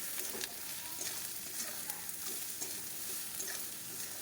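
Spices and tomato stir-fry in a pan with turmeric, chilli, cumin and coriander powders and salt: a continuous soft sizzle with repeated scraping strokes of a spatula at an even rhythm, fairly quiet and close.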